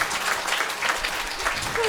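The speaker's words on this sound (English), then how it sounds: "Give them a big, big round of applause, everybody." A crowd claps at a children's camp graduation ceremony, a short, dense burst of hand claps filling the whole moment at a steady, fairly loud level.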